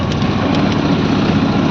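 Auto rickshaw engine running steadily on a dark pre-dawn road near Maithon, a continuous close buzzing drone with no break throughout.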